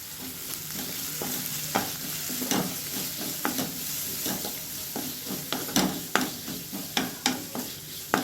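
Shredded cabbage stir-fries in a pan over high heat, a constant sizzle with repeated scraping stirs that grow more frequent toward the end, close and moderately loud, without voices.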